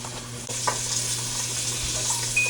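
Trout frying in butter in a Lodge 12-inch cast iron pan, a steady close sizzle with faint crackles and a brief clatter early on, no talking.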